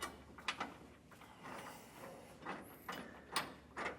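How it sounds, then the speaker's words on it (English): A wrench turns in short ratcheting bursts as bolts on a Curt A16 fifth-wheel trailer hitch with S20 slider are tightened and torqued. The clicks are faint and close, set against quiet background noise. "I'm going to tighten and torque this down to the specifications listed in the instructions manual"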